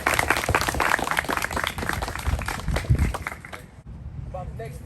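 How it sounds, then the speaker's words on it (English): A high school football team from St. Pius claps together in a loud, busy burst of hand claps and shuffling, with voices mixed in; the sound thins out briefly near the end. "clap it up, clap it up, clap it up, clap it up."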